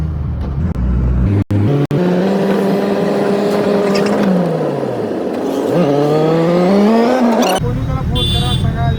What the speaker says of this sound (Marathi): तर आमची रिक्षा आलेली आहे.